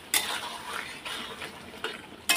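Spices with Kashmiri chili powder sauté in oil in a pan for a soybean curry, with a low sizzle under several loud scraping bursts as a utensil stirs against the pan at intervals.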